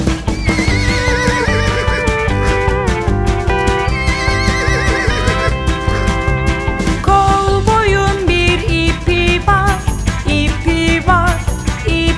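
A horse neighs and whinnies, with clip-clop hoofbeats, inside an animated children's cowboy song, all mixed into continuous loud music.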